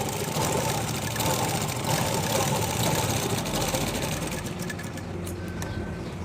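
Sewing machine stitching darts on a blouse, a steady dense mechanical whir running continuously and fairly loud, easing slightly toward the end.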